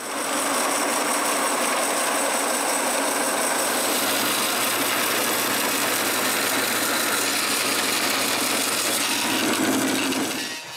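Power saw ripping a maple board lengthwise for box bottoms, a steady loud broadband whine with the motor hum running throughout, no talking.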